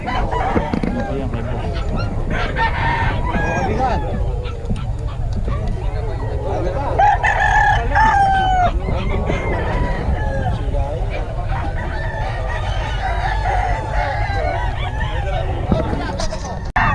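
Roosters crow repeatedly at a busy chicken market amid clucking fowl and a steady murmur of crowd chatter, with voices talking nearby throughout.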